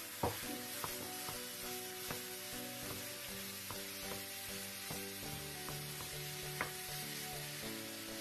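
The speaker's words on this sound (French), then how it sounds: "Faites cuire votre viande hachée à feu vif." Minced meat sizzles over high heat together with peppers in a pan, a dense continuous frying hiss with occasional stirring knocks and a faint low hum underneath, fairly quiet and steady with no speech.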